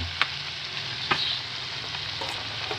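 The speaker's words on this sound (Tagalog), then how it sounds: "Halu-haluin lang po natin" Tofu and tuna sizzle steadily in a frying pan while being stirred, with a few sharp clicks of a utensil against the pan over a constant close frying hiss.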